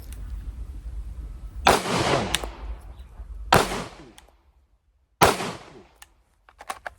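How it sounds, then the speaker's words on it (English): Three sharp handgun shots fired at a target during handgun training, evenly spaced about two seconds apart, loud and close, each with a short ringing tail and no talk between. "I'm going to send 3 rounds like that"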